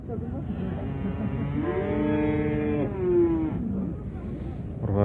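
Cattle at a busy Kazakh livestock bazaar let out a long, loud moo that rises and falls over about two seconds, with crowd chatter and market noise around it.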